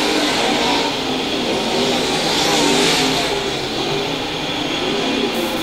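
USMTS modified race cars roar around Lakeside Speedway, a loud, continuous blend of engines at full throttle sustained across the whole stretch with no break.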